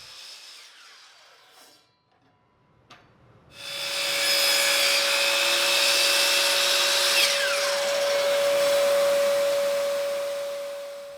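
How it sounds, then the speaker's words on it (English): A power saw cuts through an ash wood board. A few faint taps come first, then a loud, sustained whining cut with a steady tone that runs for several seconds before trailing off. "I'll start by cutting down this board into 3 pieces."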